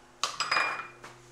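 A blender being set down and handled, giving a few sharp clinking knocks of glass or plastic parts followed by a short ringing clatter and one lighter tap, close and clear with no talking.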